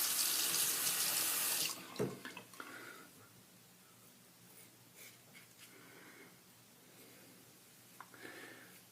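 Tap water running hard into a sink to rinse a shaving brush, a loud rush for about two seconds before cutting off, followed by faint drips, sloshing and handling sounds.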